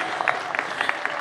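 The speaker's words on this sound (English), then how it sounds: "Applause, applause." Applause from a graduating class and audience at a law school commencement ceremony, a steady wash of clapping with brief louder bursts, heard over a short stretch.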